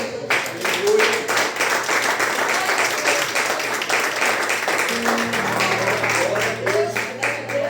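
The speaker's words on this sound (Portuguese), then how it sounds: "Você pode aplaudir a Jesus?" A church congregation claps during a sermon, rhythmic, fairly steady applause with individual claps audible, a low sustained tone underneath.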